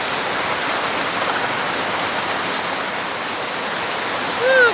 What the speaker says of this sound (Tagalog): buhos na ulan wag nang tumigil pa sa mo